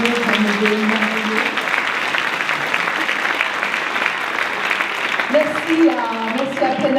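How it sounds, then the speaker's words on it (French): Audience at a Christmas choir concert breaking into applause, a dense sustained clapping that fills the room and swells slightly before tapering, with some overlapping voices toward the end. "Je veux bien que vous applaudissiez."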